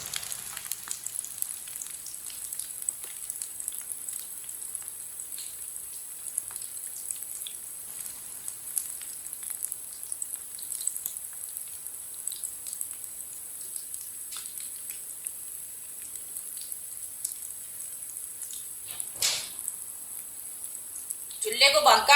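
Aloo kababs (potato kebabs) frying in a pan, a steady, quiet hiss and crackle of oil with scattered soft pops, continuing evenly, ending in a brief louder clatter.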